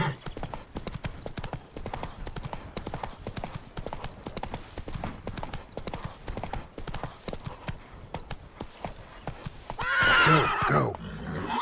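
Roach the horse in The Witcher 3 video game, with steady rapid galloping hoofbeats throughout and a loud neigh near the end, no one speaking.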